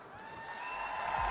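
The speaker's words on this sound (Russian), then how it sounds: "Аплодисменты" Faint applause from an audience, a soft steady patter that grows slightly louder, with a thin tonal ring running underneath and no talking.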